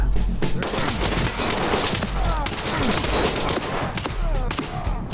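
Gunfire in the tactical shooter game Ready or Not: dense, rapid volleys of shots crackle continuously and loudly, with bursts overlapping throughout.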